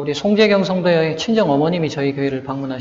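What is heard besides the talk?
No everyday noise stands out behind the speech.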